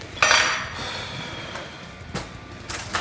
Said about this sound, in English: I gotta get a smaller spoon